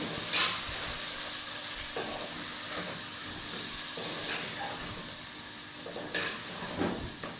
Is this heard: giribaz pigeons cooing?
no